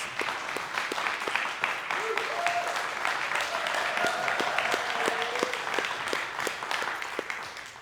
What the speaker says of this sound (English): Pastor Val, let's give you a round of applause